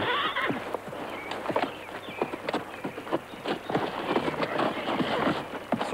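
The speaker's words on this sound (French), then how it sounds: "Son cheval boite." A lame horse's hooves clatter unevenly on the ground alongside a high whinny, fairly close, with people talking over the sound.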